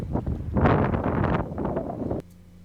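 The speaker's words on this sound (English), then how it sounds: "And still very windy." Strong wind buffets the microphone on a high hilltop above a river valley in Nova Scotia in autumn, roaring in loud gusts before cutting off abruptly to near quiet.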